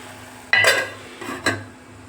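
Curry being stirred with coriander powder in a pan, with two or three short bursts of spoon scraping against metal over a faint background hum.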